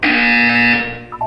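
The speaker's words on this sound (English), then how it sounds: "You will hear a buzzer." A loud electronic buzzer from the video game Portal 2 sounds as one sustained harsh tone for nearly a second, then cuts to a quieter follow-up tone.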